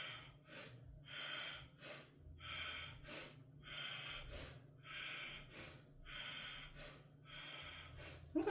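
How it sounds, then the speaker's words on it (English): Rapid, rhythmic breathing during a Pilates exercise, sharp inhales alternating with firm, forceful exhales in a steady pulse, close and fairly quiet. "So you're doing rapid inhales and firm exhales."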